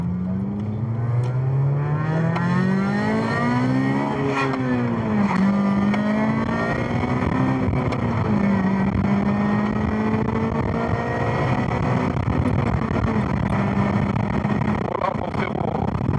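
A Honda Civic Type R FN2 accelerates hard from standstill to 50, heard from inside the car: a loud engine note climbs steadily in pitch, with brief dips at the gear changes.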